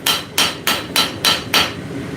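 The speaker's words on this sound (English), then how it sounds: "I'm forging it with a straight peen" A straight peen hammer strikes hot steel six times at an even, quick pace. Each blow is a sharp, ringing metallic clang close by, with brief decays between strikes and no voices.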